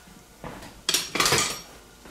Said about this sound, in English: I'm going to get a spoon though and stir